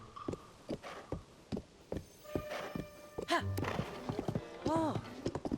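Hooves of Ganon's horse galloping in Zelda: Tears of the Kingdom on a beach, rhythmic clip-clop thumps with a whinny and game effects, under a person talking.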